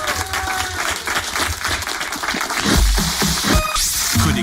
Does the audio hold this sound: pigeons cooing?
no